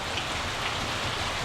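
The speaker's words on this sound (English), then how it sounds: "The hail's gotten bigger." Hail falling steadily during a hail storm, a dense continuous patter of small stones striking surfaces nearby with no talking.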